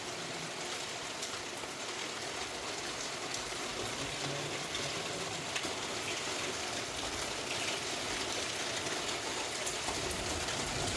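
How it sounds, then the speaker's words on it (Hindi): Monsoon rain falling steadily outside a home, a dense, even hiss of drops with a low rumbling undertone that continues unbroken, with no one speaking. "बारिश आ गई है मेरे निकलने के टाइम पे"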